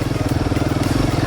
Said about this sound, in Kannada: ನೋಡಿ, ಇಲ್ಲಿಂದ ನೋಡಿ ಬೈಕ್ ಹೋಗೋದು ಇವಾಗ